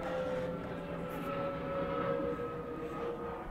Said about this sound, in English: Apologize for the aircraft going over at the moment.